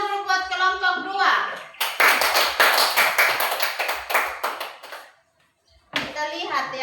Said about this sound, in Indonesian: Oke, tepuk tangan dulu buat kelompok 2.